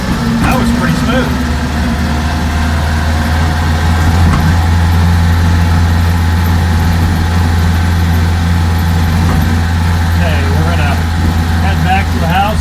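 The small engine of a 1948 Crosley CoBra wagon hums steadily as the car pulls away in second gear. Someone talks over the engine throughout.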